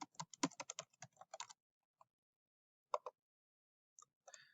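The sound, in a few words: typing a username on a computer keyboard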